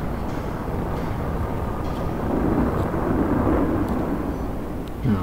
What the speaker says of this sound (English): a cutscene with the airplanes plays